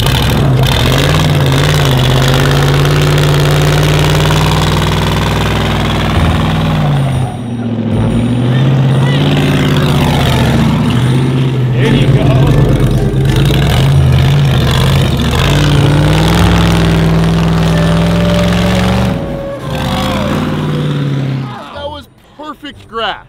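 A vehicle set up for drag racing drives up to a garage. Its engine gives a loud, close, throaty rumble that rises and dips with the throttle, then fades and cuts off near the end. A voice talks over it.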